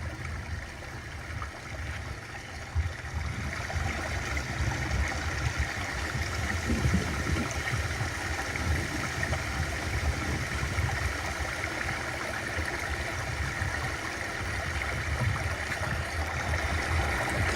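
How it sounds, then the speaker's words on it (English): Water pouring steadily over a rebuilt creek waterfall with an underground flow, a constant full rushing and gurgling wash that stays loud and even throughout with no voices. "This is the new waterfall today."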